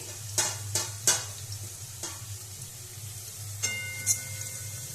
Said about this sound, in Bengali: আবারও ভালোভাবে ভেজে নেব